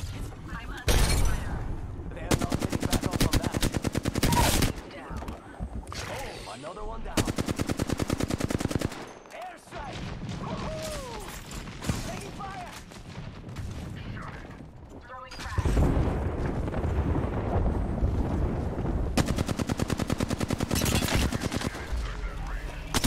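Heavy Apex Legends firefights roll through in long bursts of machine-gun fire and explosive blasts, loud and close, easing into a quieter stretch before the shooting surges back, with players talking between volleys.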